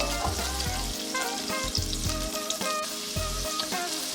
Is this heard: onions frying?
yes